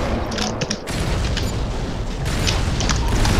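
A bomb goes off in the shooter game Modern Combat during a sniper battle, giving a loud, dense rumble that swells and holds for several seconds, with sharp mechanical clicks over it near the start.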